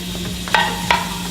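Garlic sautéing in vegetable oil in a pan over medium-low flame, a steady soft sizzle with a steady hum beneath and two brief clinks or scrapes of stirring.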